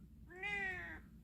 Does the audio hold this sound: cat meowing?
yes